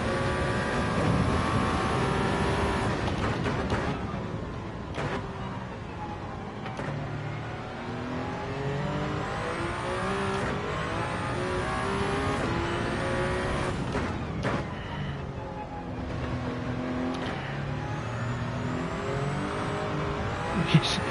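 A hybrid race car in a Daytona 24-hour sim race accelerates at full throttle, its engine revving and shifting repeatedly with rising pitch sweeps, loud and continuous throughout, with no talk.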